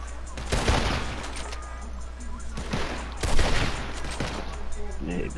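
Enemies fire guns in the video game Red Dead Redemption 2, with a couple of loud, close volleys of shots cracking over a steady background hum.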